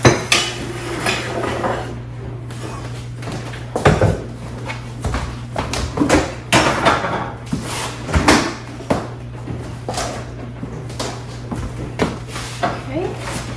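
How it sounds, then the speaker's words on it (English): Cookie dough plopped and scraped onto a metal cookie sheet, with clanks and taps of utensils and a steady low hum beneath, while a person talks throughout. "Let's get it on a cookie sheet."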